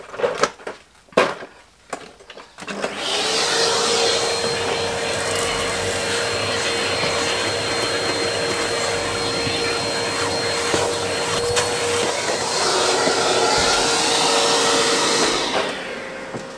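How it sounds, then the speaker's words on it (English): A hoover powered by a Jackery Explorer 1000 portable battery cleans a car interior, switching on after a few knocks and handling thumps and then droning loudly and steadily with a whining motor tone until near the end. "Jackery on the front seat, go and get the hoover. One hoover, one power supply,"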